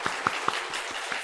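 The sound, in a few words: church congregation applause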